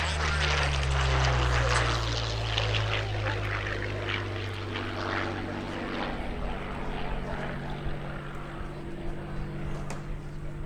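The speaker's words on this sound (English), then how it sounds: "he's showing you the capabilities of this historic fighter aircraft" A P-40 Warhawk fighter, a historic warplane delivered to the U.S. Army Air Corps in 1943, flies at an air show in Orange County, New York, its loud, steady propeller engine drone gradually easing as it passes.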